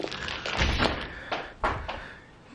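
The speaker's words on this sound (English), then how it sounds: "Guess we're opening the doors." Doors are opened at home to let children out to play. A few close thuds and knocks sound, with a louder clunk near the end.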